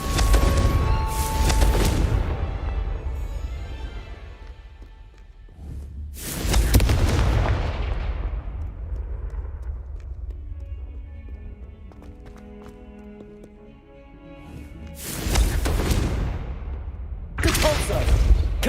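Blasting Confringo spell explosions in a Harry Potter video game, heavy booming bursts that come in a few loud clusters with quieter rumbling stretches between them, close and forceful, with a voice shouting spell names between blasts.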